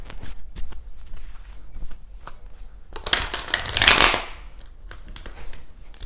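Oracle cards riffle and slap together in quick, close shuffling, building to a denser flurry of card noise before settling into lighter taps.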